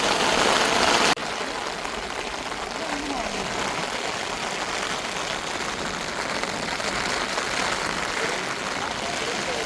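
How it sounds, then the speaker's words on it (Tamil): Heavy rain pours down during hook-and-line fishing, a dense steady hiss of drops on surfaces that cuts off sharply to a softer wash after the first second. "சரியான மழை பெய்யுது"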